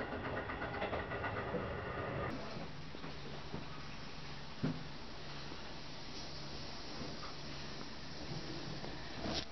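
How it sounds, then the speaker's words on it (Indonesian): A train ride between Osaka and Kyoto in winter, with a steady low rumble and rail noise inside the carriage, a few faint clicks and knocks, quiet and continuous with no talk. "Sekarang gue mau lanjut naik kereta buat pindah kota."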